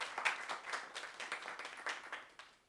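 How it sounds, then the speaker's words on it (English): Fairly faint applause from a conference audience after a panel discussion on digital sovereignty, with distinct claps rising and falling unevenly, alone and without talk. "Let's give him another round of applause before we close up this panel"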